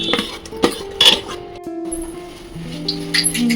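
A utensil scrapes and clinks against a metal pot while jaggery is stirred into half-cooked rice, making several sharp knocks and then quieter scraping, with a voice talking over it.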